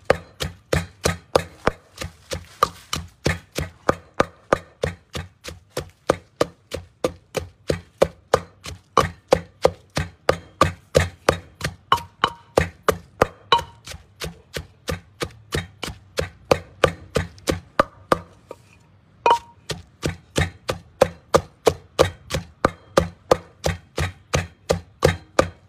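Thai chili paste of fresh and dry-roasted chilies and shallots is pounded in a mortar, loud, close, steady rhythmic thuds repeating about two per second throughout, with one brief pause near the end.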